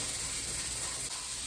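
Steady broadband hiss of a pressure cooker venting steam on a stovetop while cooking gluten-free brown rice with seven grains, constant and fairly loud without a break, no voices.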